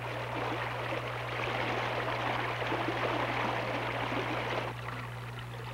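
River water flows in a steady, close rushing wash with no voices, its texture shifting slightly toward the end under a constant low hum.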